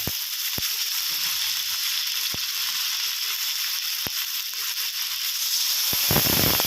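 Cabbage, onion and mixed vegetables stir-fried with chicken in hot oil give a loud, steady sizzle with a few sharp clicks and scrapes, close and continuous with no talking.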